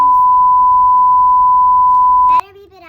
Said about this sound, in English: if my cousin edits this, he better beep it out